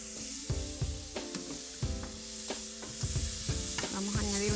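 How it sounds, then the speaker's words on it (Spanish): Chopped onion sautéing in a pan for a Tex-Mex spaghetti squash dish, with a steady soft sizzle broken by repeated scraping, stirring knocks of a utensil against the pan, close and fairly quiet. "vamos a sofreír eso por unos minutitos antes de echar nuestro jackfruit"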